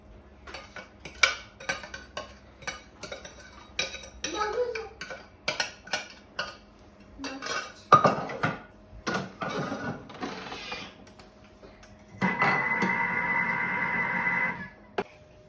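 Clinking and scraping of a utensil against a bowl while eggs are mixed into a Polish gingerbread cake batter, irregular knocks and stirring strokes, close, ending in a steadier whirring mix.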